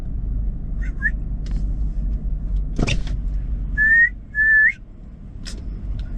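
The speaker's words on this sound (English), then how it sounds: "I think he heard a whistle." A person whistles on a city street in Inglewood: two short chirps, then two longer rising whistles near the end, over a low rumble of passing traffic with a sharp knock in between.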